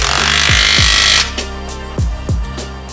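Bolts on a Ford Focus RS aftermarket exhaust are tightened with a power tool, giving a loud whirring burst followed by several short clicking ratchet-like hits, close up.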